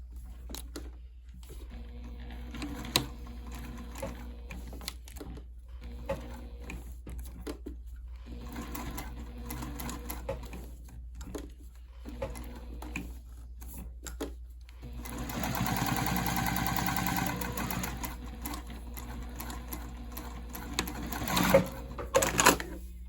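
A sewing machine stitches a backpack in bursts of rapid mechanical chatter broken by short pauses, then runs louder and longer near the end. It is close and heard alone, with no talking.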